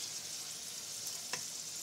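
Fresh-cut potato French fries frying in hot oil at home give off a soft, steady bubbling hiss, quiet and even, with one brief crackling pop near the end and no voices.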